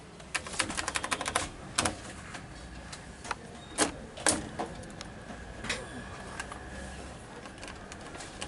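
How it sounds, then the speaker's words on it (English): Keypad buttons on a telephone handset trainer, model XPO-CAT7, being pressed. Sharp irregular clicks and taps come at uneven intervals over a low steady hum. They are close but fairly quiet, with no talking. "experiment to identify keyboard dual tone frequency"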